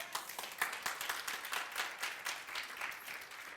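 A congregation applauds inside a church, steady dense clapping from many hands throughout, moderately close and even, with no talking over it.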